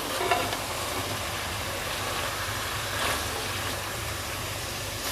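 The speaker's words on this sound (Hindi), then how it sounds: "तो अब हम इसमें डाल देंगे कचनार। इसको तेज़ आंच पे 1-2 मिनट डालकर भून लें।" Kachnar buds frying with keema over a high flame, a steady hiss and sizzle with light stirring, even and moderately quiet throughout.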